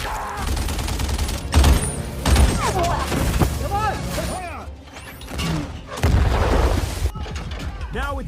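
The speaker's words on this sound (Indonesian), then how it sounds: "Tanpa pikir panjang, ia pun langsung menembaki mereka." Gunfire on a wartime battlefield, a soldier shooting at approaching German troops: bursts of heavy thumping shots and mechanical clatter, mixed with dramatic sound effects and a voice speaking over parts of it.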